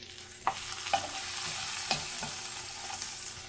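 Food frying in a pan for a Beyond Meat burger, a gentle continuous sizzle close by, punctuated by a few light taps and scrapes of a utensil, with no talking.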